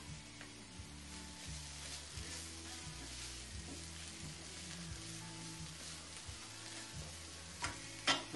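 Ground garlic stirred in a frying pan, a quiet steady sizzle with soft scraping under background music and a couple of louder clanks at the end.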